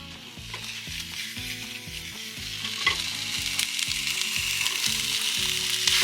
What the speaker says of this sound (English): We're cooking, Mama.